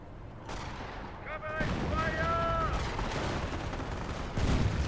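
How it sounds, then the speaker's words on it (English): Company of Heroes battle with sniper shots and gunfire: a steady wash of distant battle noise and rumbling fire, with a brief whistling tone in the middle and a heavier burst at the end. "You got two nice sniper shots there"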